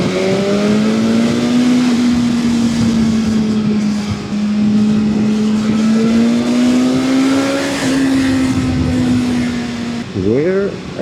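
A BMW S1000RR motorcycle engine drones loudly during a ride, its pitch rising and falling gently under wind rush. A quick rev change comes near the end. No distinct pops or bangs stand out.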